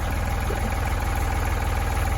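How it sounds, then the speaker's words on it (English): A New Holland 3930 tractor's diesel engine idles steadily while warming up, a continuous low rumble with an even throbbing pulse, close and alone. "While it's warming up to change the engine oil"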